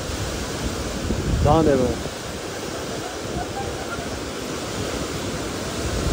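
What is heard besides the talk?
waterfall in Kumrat Valley, Swat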